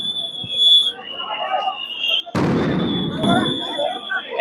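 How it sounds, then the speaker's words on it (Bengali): Police sound grenades exploding at a street protest: a sudden loud blast about halfway through, with crowd noise and talk before and after it and a steady whistle-like tone running throughout. "দর্শক, এই মুহূর্তে দেখতে পাচ্ছেন যে সাউন্ড গ্রেনেড ছোড়া হচ্ছে চতুর্দিকে কিন্তু ছত্রভঙ্গ করতে।"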